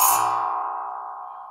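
A circular metal instrument is struck once with a metal rod, giving a bright clang that settles into a long, ringing bell-like tone slowly fading, heard up close with no talk.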